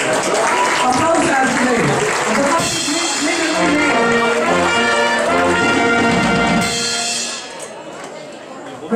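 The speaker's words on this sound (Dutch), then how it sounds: "Applaus" Audience applause and cheering fill a carnival youth session in Mheer, a loud sustained crowd with music and voices mixed in, easing off toward the end.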